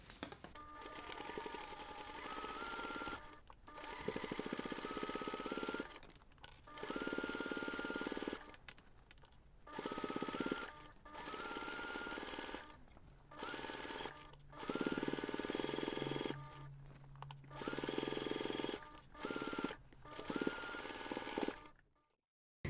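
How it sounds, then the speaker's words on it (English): Sewing machine stitching a seam on a bag, quiet bursts of mechanical whirring repeated about eight times with short pauses between runs. "just take this to the machine and sew the seam using 1 centimeter seam allowance"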